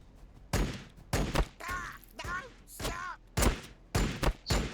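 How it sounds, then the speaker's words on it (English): Bolt pistol suppressing fire in Warhammer 40,000: Battlesector, from an Astra Militarum versus Orks battle: about seven sharp, loud shot bursts in an uneven rhythm, with warbling whistle-like tones between some of them. "Bolt pistol suppressing fire."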